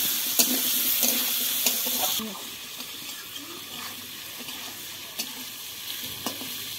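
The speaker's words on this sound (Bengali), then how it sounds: "আলুগুলো লাল লাল করে ভেজে নেব।" Potatoes fry with turmeric and salt in a pan, a steady sizzle and hiss that is loud at first, then drops to a quieter bubbling with scattered clicks from stirring.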